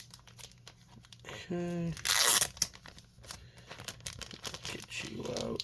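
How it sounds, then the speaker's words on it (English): Blue painter's tape being peeled off a mail package, a loud tearing, crinkling rip lasting about a second, followed by softer rustling, close to the microphone, with brief talk nearby. "Let me just get this blue painter's tape off."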